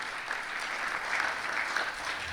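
Steady audience applause fills the room at a ministry research presentation honoring newly graduated doctors, a dense, even patter of many hands throughout.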